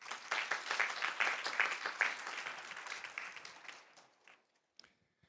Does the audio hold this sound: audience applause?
yes